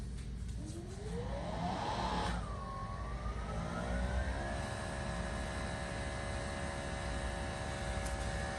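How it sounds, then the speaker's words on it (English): A Greenworks Pro 3000 psi pressure washer motor spins up with a rising whine, then settles into a steady, fairly faint electric hum at idle. "Now let's power it up and see how much just the motor draws."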